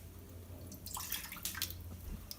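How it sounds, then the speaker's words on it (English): Lactase solution is poured into a pan in a lab preparation, a faint, short liquid splash lasting a couple of seconds with no talking. "now I'm going to pour my solution"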